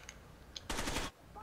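A short, loud burst of automatic gunfire in the shooter Rainbow Six Vegas 2, lasting under half a second amid quiet game ambience.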